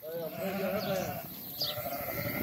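A flock of pregnant sheep for sale, several bleats rising and overlapping up close against a busy outdoor background.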